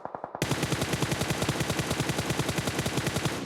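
Rapid automatic gunfire in a battle royale video game, a long sustained burst of evenly spaced shots following a few scattered rounds, loud and close with no talking.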